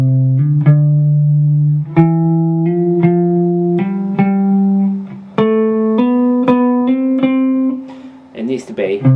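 Beginner guitar scale played note by note with picking and fretting out of sync, each plucked note ringing clearly with slight smeared attacks in a steady ascending run, ending in a brief messy scrape.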